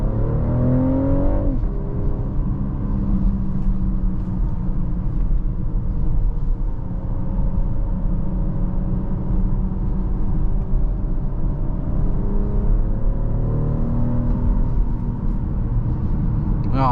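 Steady low engine and road rumble heard from inside a 2024 BMW X6 40i SUV, with a motor whine rising in pitch as it speeds up.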